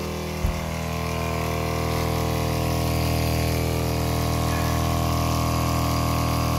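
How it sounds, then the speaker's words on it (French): Small electric water pump in a home water system running steadily at about 4 litres per minute, a loud, constant close-up motor hum with a strong tonal drone, preceded by a brief thump at the start. "Ça consomme du 4 litres à la minute, donc c'est exactement la puissance annoncée pour ma pompe"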